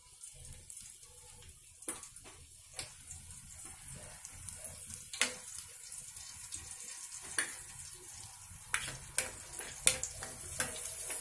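Raisins sizzling in hot oil inside a slotted ladle while making sweet boondi, a steady soft bubbling hiss with scattered small pops and crackles, close and fairly quiet.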